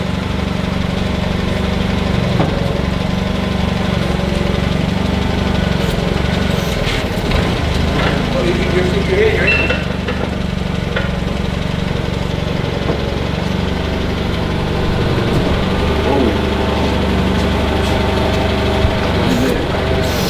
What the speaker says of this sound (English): We're about to power this thing with this forklift right here.